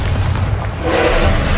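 A Confringo spell detonates in the video game Hogwarts Legacy, a deep, rumbling boom that lingers as a heavy low roar for over a second, with no speech.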